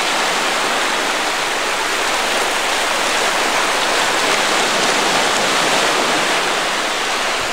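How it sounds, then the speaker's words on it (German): Sea waves on a beach at Koh Kood, Thailand, heard as a steady, loud, broadband rush of surf with no distinct breaks, continuous for the whole stretch. "Hört mal hin auf das Meeresrauschen"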